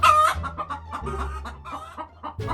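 Cartoon chickens cluck and a rooster crows in quick, busy succession, close and lively with no talk over them.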